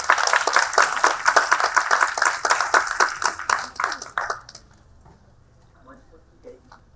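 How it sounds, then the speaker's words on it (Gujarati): An audience applauds to welcome a speaker at a gathering on Indian education, with steady dense clapping that stays loud for about four seconds and then fades into near silence. "ખૂબ તાળીઓના સન્માન સાથે એમને આવકારીએ."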